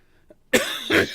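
A single sharp cough, close and loud, followed by a second rougher cough burst, after a brief faint sound in near silence.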